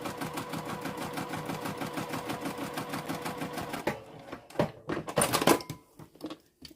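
A sewing machine basting fabric, stitching in a steady fast rhythmic whir for several seconds, then stopping into a few scattered clicks and handling noises of the machine and fabric.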